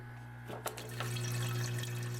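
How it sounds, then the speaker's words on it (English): Water streams steadily from a hose into aquarium filter tubs, a constant close gurgling flow over a low electrical hum from the sump equipment, with a few small splashes and knocks. "When the tubs are full, stop the flow of water from the hose, but leave it in the filter."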